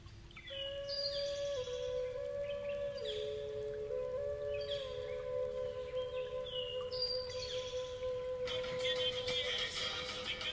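Birds calling in Tayrona park, Colombia: a series of clear, whistled tonal calls and chirps repeating over about ten seconds, fairly close, with no talking.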